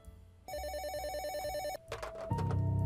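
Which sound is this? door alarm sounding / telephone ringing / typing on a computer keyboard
telephone ringing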